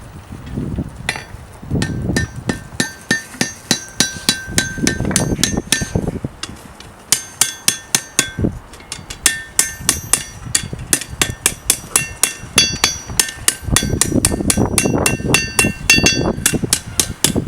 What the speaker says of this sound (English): And then we have another hammer here for shaping.